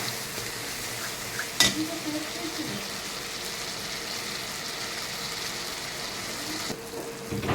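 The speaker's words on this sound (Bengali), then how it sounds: "আমার পুরো মশলাটা ভাজা হয়ে গেছে" A blended paste of mustard, poppy seed, a little ginger, five green chillies, cinnamon and cardamom fries in a pan with a steady close sizzle and occasional stirring clinks and scrapes.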